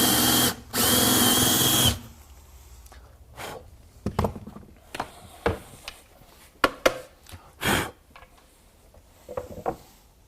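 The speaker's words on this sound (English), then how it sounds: "we'll drill the next one" Power drill boring hinge cup holes into kitchen cabinet doors, a long high whine at the start followed by a series of shorter bursts and stops of drilling, close and loud, with quieter handling knocks between.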